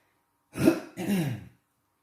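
Two quick, rough coughs close by, one right after the other, in an otherwise quiet room.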